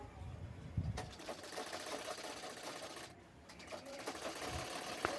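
Sewing machine stitching a silk blouse, a steady close mechanical whir with a fast needle rhythm that runs throughout, with a short pause near the middle and a few soft clicks.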